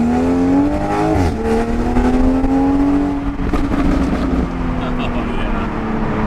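A 2020 Toyota Supra fitted with an AFE intake drives past, its engine note rising then shifting as it passes nearby, with a voice talking over part of it.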